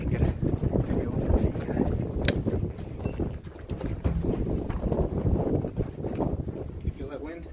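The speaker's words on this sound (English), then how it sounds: "I feel the wind getting stronger too." Wind rushes steadily through an underground train tunnel as a train approaches, a loud continuous roar with low rumble and gusty buffeting against the microphone, with voices faintly in the mix.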